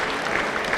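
An audience at a boxing hall of fame event claps, a brief dense burst of applause from many hands, close and loud.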